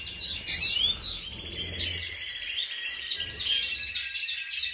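A male white-headed classic goldfinch sings in an indoor aviary, with bright rapid twittering phrases and high trills, close and loud, coming in bursts with brief gaps and no talking over it.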